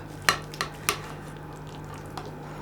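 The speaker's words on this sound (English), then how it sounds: "I'm just going to dish up a piece" A serving utensil clinks and scrapes a few times against a dish as a portion of Greek moussaka is lifted out, sharp taps spaced apart over a low steady hum, then a fainter tap near the end.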